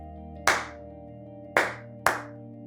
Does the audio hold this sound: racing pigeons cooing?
no